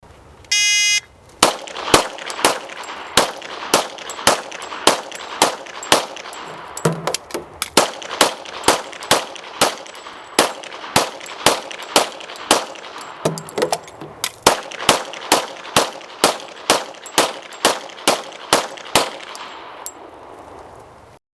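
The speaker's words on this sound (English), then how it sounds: "Now our demonstrator, Jim, will be firing 10-round magazines on our 3 targets." Gunfire from 10-round magazines shot at three targets: sharp, loud single shots in a steady rhythm of roughly thirty rounds, with two brief pauses between magazines, under a faint beeping tone, with no voices.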